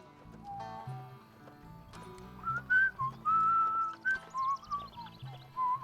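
Gentle melodic whistling, a person carrying a wandering tune in short phrases over soft rhythmic background sounds, close and clear.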